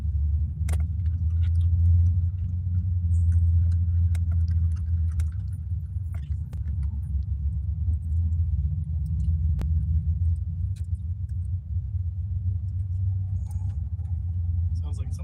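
Honda Civic with a K24 engine idling, a steady low rumbling drone close by with faint clicks and jangles over it, continuing throughout.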